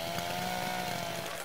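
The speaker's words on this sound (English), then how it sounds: "Oh, the chainsaw's still going." A chainsaw in the Little Inferno video game keeps buzzing at a steady, faint level, a continuous engine whine with no other sounds.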